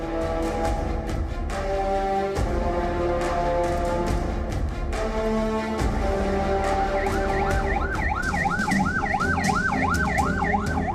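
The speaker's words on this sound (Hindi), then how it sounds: "सायरन बजाते हुए गुजर रही पुलिस की ये गाड़ियां" Police sirens wail loudly as vehicles pass, overlapping tones rising and falling, with a rapid yelping siren joining near the end over traffic noise.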